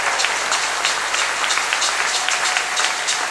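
A church congregation applauds in acclamation of the Lord, a dense, steady wash of clapping from many hands filling the room without pause.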